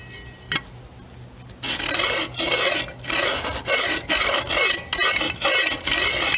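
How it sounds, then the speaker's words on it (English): Rhythmic rasping strokes of a center punch scoring metal, about seven repeated scraping passes close by after a brief quiet start with a single tap. "the center punch is going to score it"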